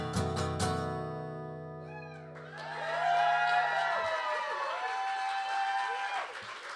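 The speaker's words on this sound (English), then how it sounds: "Thank you for that amazing applause." A live music crowd bursts into applause and cheering just as a sustained musical chord fades. The clapping swells and holds at a moderate level for several seconds, threaded with high whoops and whistles.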